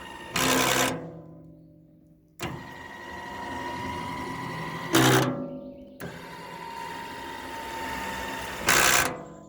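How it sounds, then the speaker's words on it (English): Hydraulic actuator curling the bucket on a 2021 Johnny Bucket loader, a strong whining hum that runs in long bursts, broken by short sharp broadband bursts of hiss or clatter, close and loud. "This actuator is pretty zippy."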